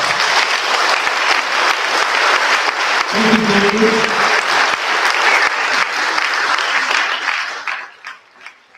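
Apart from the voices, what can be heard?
applause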